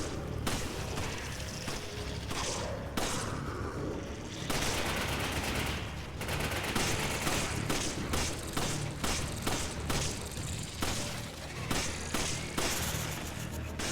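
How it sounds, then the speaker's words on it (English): Dense video-game gunfire, machine-gun bursts and heavy shots overlapping continuously with thumps and booms, loud and close throughout. "that guy needs to stop shooting so I can shoot him"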